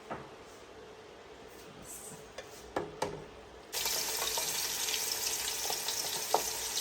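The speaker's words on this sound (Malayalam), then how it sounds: "നമുക്കിതിൽ സവോള ഇടാം" Sliced onions go into hot oil in a pan for Kozhikode prawn biryani. A few soft kitchen clatters give way to a sudden, steady, close sizzle that continues to the end.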